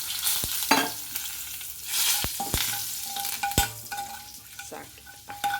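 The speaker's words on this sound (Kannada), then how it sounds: "ಕರಿಬೇವು ಹಾಕ್ತೀನಿ" Curry leaves drop into a hot mustard-seed tempering in oil, a sizzle that swells and fades, punctuated by sharp spoon knocks and scrapes against the small pan.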